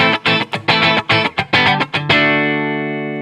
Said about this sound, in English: A single coil pickup, a Strat pickup, is really well suited to the totally clean,